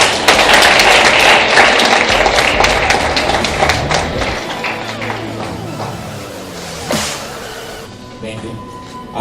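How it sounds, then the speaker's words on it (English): Round of applause for a judge at the finals of a Kenyan moot court competition, a hall audience clapping loudly and steadily before it thins out and fades, with a voice speaking over it. "A round of applause for him."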